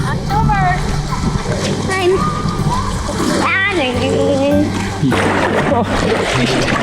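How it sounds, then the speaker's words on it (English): Sea water splashes and sloshes as people swim off a beach in Puglia, Italy, in October; the loud, close splashes come in bursts, and voices call out and talk between them. "Pump it up, swimming in Italy."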